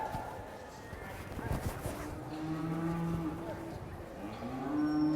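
Cattle low in long, drawn-out moos, several overlapping calls near and mid-distance, at a cutting-horse working session, with hoof movement and a rider's voice calling out underneath.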